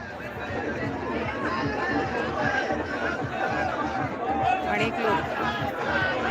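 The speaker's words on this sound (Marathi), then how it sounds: "भरपूर प्रमाणात गर्दी आहे" Dense crowd chatter and babble at the Khandoba fair at Devgad in Sangamner taluka during Magh Purnima, a continuous steady hubbub of many voices with no single speaker standing out.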